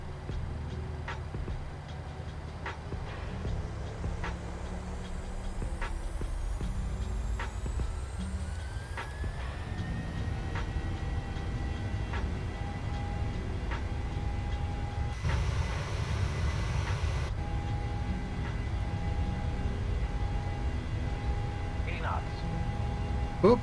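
PMDG 737 accelerating down the runway for takeoff in Microsoft Flight Simulator, a steady loud engine roar with rising whine tones throughout, a voice talking over it.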